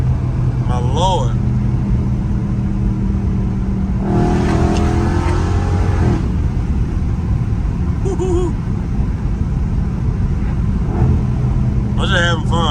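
A catless Dodge Scat Pack roars along back roads in traffic with a loud, constant engine rumble and a sharper revving surge midway, while people talk over it.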